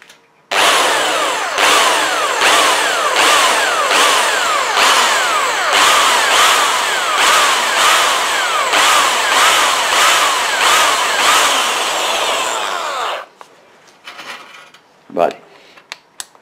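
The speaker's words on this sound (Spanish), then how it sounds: "Vamos cambiando o alternando las brocas de menor a mayor para no meterle la de 8 directamente" Power drill boring holes with progressively larger bits, from a pilot bit after a center punch up to an 8 mm bit, to prepare for threading with taps; loud, steady whine in repeated bursts for about twelve seconds, then stopping.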